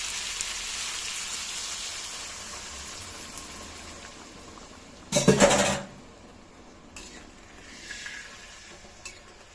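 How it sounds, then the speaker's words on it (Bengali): Water splashes into a pan of frying onion curry, giving one brief, loud hissing sizzle midway through against a quiet, soft simmer before and after. "এখন আমি এখানে জল দিয়ে দেব।"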